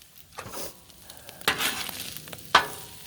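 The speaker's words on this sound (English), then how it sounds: "Let's give this a little toss, a little mix, a little spin." Hamburger hash sizzling on a Blackstone griddle while a spatula tosses it, a steady frying hiss broken by two sharp scraping clatters, close and clear with no talking.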